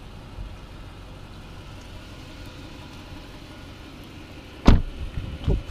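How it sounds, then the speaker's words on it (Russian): A quiet, low engine idle from a Lexus GX 470 hums steadily, followed near the end by a couple of louder thumps or clunks. "слышите, двигатель шепчет."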